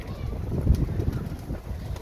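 A pigeon coos softly and repeatedly over steady outdoor background noise, fairly close by.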